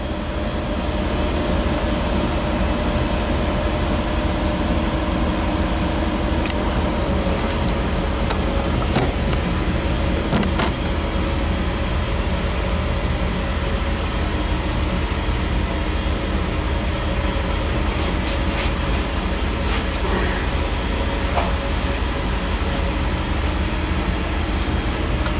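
A steady, continuous rumble of a moving V/Line passenger train on a Warrnambool service fills the clip, with low mechanical droning and occasional faint clicks, no voices.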